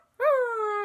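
A human voice imitates a ghost dog with a single short, tonal whine-like yelp, close and fairly clear, holding for under a second.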